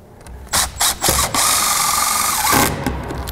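A power drill drives screws into a roof piece of a gable under construction, a few short trigger bursts followed by one sustained whirring run that winds down, loud and close with no talk.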